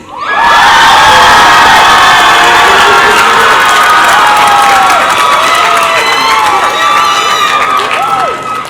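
A rowdy crowd at a university commencement ceremony cheers loudly and continuously, with shouts and whoops rising over sustained applause for several seconds.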